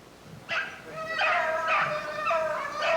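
Beagles baying on a rabbit track in spruce thickets, several drawn-out, ringing howls rising and falling in overlapping bursts, heard at moderate distance outdoors.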